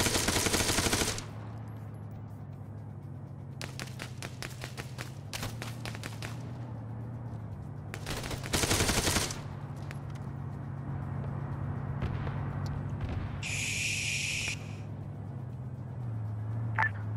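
Gunfire exchange in the military shooter Arma 3 near Pyrgos: several sharp bursts of automatic fire and scattered single shots ring out over a steady low vehicle-like hum, with quiet stretches between volleys.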